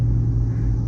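Low, steady exhaust drone from a Lexus GX470 V8 fitted with long tube headers, cruising around 2200 RPM, a constant close rumble with no talking.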